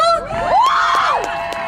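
Rally crowd at a UniteWomen event bursts into loud cheering, with shrill rising and falling whoops from individual voices over a brief, dense roar.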